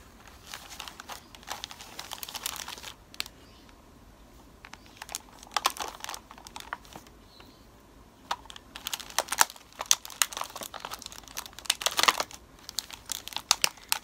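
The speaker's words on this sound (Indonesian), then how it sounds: "kita tutup gelasnya dengan plastik supaya tidak ada udara di dalamnya" Plastic wrap crinkles and rustles close by as it is stretched over a glass for an electrolysis experiment, coming in irregular crackly bursts with short quiet gaps.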